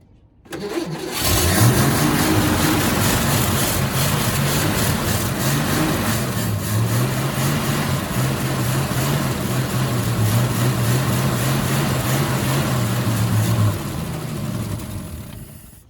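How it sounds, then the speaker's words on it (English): An old Ford F-Series truck engine cranks, catches and runs, settling into a loud, steady, close idle with a low throbbing note for over ten seconds before it shuts off. "This truck sounds nice."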